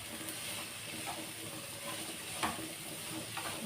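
Chopped vegetables stirred in a pan for veg fried rice, giving a steady low sizzle with soft scraping strokes and a few sharper knocks near the end, close and continuous with no talking.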